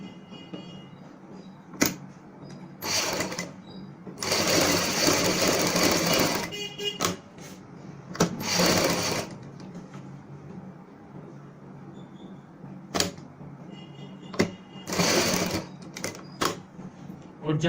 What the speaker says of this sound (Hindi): सबसे पहले हम एक साइड से सिलाई की शुरुआत करेंगे।